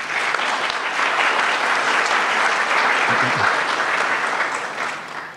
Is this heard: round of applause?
yes